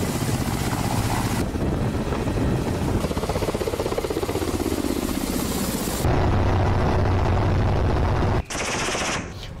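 A Russian Ka-52 Alligator attack helicopter flies close and loud, its rotors beating in a rapid, heavy, chattering pulse that shifts tone partway through before cutting off abruptly near the end.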